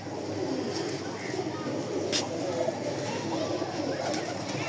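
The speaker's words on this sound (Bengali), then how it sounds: "কবুতর দেখেন, কবুতর মাশাআল্লাহ" Pigeons kept in a home loft coo softly and continuously in a close, steady murmur, with a person talking over them throughout.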